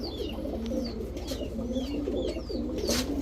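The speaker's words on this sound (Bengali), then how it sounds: "এটা হচ্ছে নর চুইঠাল বাঘা, এটা হচ্ছে মাদি" A male and female Chuithal Bagha pigeon coo steadily and close by, their low warbling calls overlapping while thin high chirps from other birds sound in the background.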